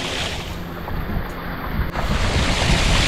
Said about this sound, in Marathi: हवा गारगार सुटते एकदम